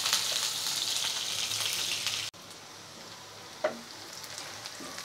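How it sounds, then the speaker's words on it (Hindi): Onion frying on high flame, a fairly quiet, steady sizzle that drops lower partway through, with a single soft knock and no voices. "प्याज को हम दो मिनट हाई फ्लेम में फ्राई कर लेंगे।"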